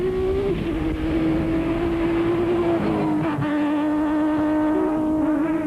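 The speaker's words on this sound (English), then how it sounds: "The De Villiers proudly South African Nissan hardbody is similar to the Dakar vehicles" A South African Nissan Hardbody rally truck with a space frame chassis races past at the Mmabatho 500, its engine droning loud and steady with a shifting pitch as it accelerates and changes gear.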